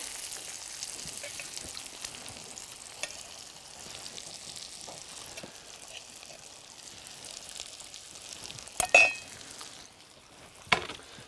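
Perch fillets fry in butter in a pan, giving a steady soft sizzle across the whole stretch, with a few sharp clinks of the pan and utensil near the end.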